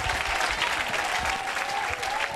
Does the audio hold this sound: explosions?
no